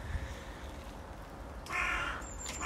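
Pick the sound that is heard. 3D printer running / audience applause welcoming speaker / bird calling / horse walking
bird calling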